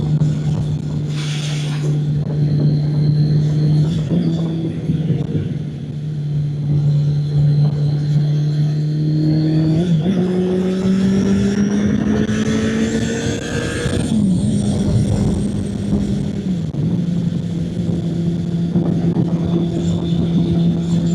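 A Kawasaki ZL900 Eliminator motorcycle accelerates and passes, its engine note climbing through gears with a steady rising drone, loud and continuous throughout.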